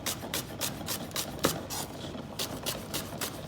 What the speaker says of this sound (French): Je cisèle mes cives très finement.